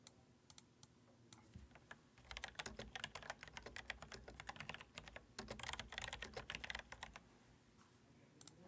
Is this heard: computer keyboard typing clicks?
yes